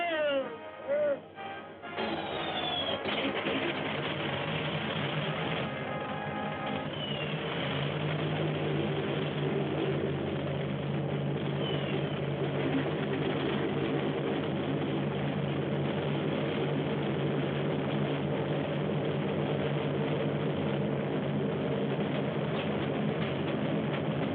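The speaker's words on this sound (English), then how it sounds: "Start engines." WWII military aircraft piston engines start up with sputtering and rising drone, then settle into a steady, loud, continuous idle rumble that fills the rest of the clip.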